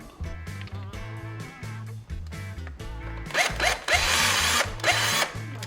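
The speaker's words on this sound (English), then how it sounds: "Once we have our drill, then we can drill a small hole towards the side of our cap." A power drill whines in bursts with a steady low motor hum, then turns harsher and louder as the bit bites through plastic near the end.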